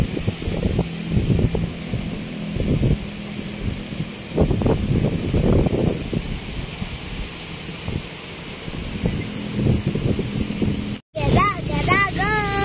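Strong typhoon wind buffets the microphone outdoors, with heavy rain and a steady rushing roar throughout. Gusts swell and ease, and people talk now and then under the noise.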